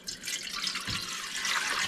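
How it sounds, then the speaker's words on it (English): Water pours in a steady splashing stream into the pan of a bread maker for about two seconds, the liquid going in ahead of the dry ingredients and yeast in a home kitchen. "We know liquid is water, so we'll pour that in there."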